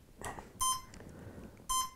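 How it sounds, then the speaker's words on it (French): Two bursts of bright electronic beeping from a drone's motor controller vibrating the bare motor with the propeller removed, a short tone pattern near the start and again near the end, close and clear over quiet background. "c'est le contrôleur qui fait ça en faisant vibrer le moteur à une fréquence audible"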